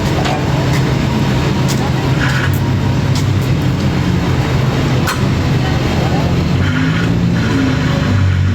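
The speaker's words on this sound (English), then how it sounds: "He's dragging it down the street here." A truck drags a crash-damaged car with a broken wheel down a California street, producing a loud, continuous scraping and grinding roar with occasional sharper squeals.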